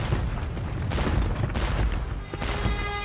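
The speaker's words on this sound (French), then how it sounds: "Marchez, marchez au son du canon." Continuous rumbling barrage of distant cannon fire at the Battle of Waterloo, dull booms overlapping one another in a dense, roaring battlefield din with no pauses.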